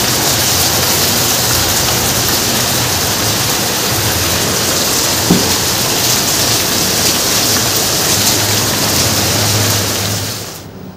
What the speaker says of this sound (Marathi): खूप जोरदार पाऊस येऊन राहिलेला आहे